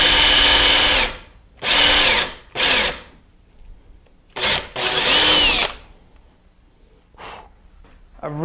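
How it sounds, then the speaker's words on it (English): A power drill bores dowel holes into wood in a chair-building job, several loud close bursts of whirring that start and stop with pauses between them, the last ones fainter. "So let me go mark this bit and we'll drill some holes."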